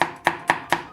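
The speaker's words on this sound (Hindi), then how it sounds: "इसको अब हम बारीक बारीक चॉप करेंगे।" Four crisp knife chops through potatoes on a board, evenly paced and close, with no voices over them while the potatoes are chopped fine.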